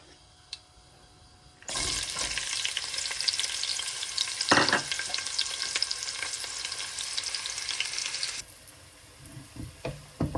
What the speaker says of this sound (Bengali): হার্ড চিকেন রান্না করার জন্য প্যানে তেল দিয়ে দিচ্ছি।